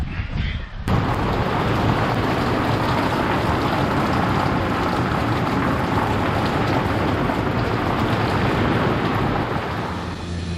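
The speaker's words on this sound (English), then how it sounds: "David, get in out of the rain, sir." Steady rain pours outdoors, a loud, continuous broadband hiss that holds evenly for about ten seconds after a brief opening moment.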